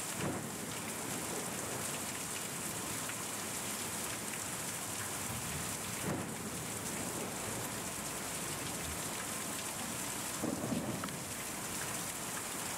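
Steady heavy rain hisses on surfaces throughout a thunderstorm, with low rumbles of thunder rising now and then beneath the constant downpour; quiet overall, with no voices.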